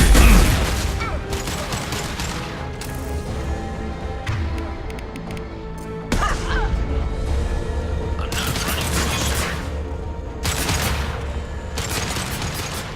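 Mass Effect 2 combat gunfire crackles in bursts of shots and booms over a mechanical background hum, with sharp volleys at several points and brief lulls between.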